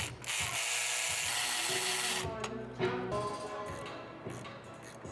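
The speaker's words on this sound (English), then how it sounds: "so now I'm just unbolting the oil pan." A power tool whirs in a long steady burst while unbolting the oil pan from a ZL1 engine during teardown, then gives way to shorter ratcheting bursts and metallic clicks in a close workshop setting.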